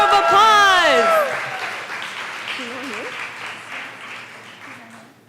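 An open mic audience breaks into applause to welcome a performer right after a brief spoken introduction; the clapping swells quickly, then thins and fades over a few seconds.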